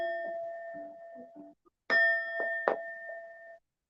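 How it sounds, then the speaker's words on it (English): A small bell rings a few times: soft quiet tones first, then two bright, clear dings that ring on and fade, heard alone. "Oh wait, I have to do the bell."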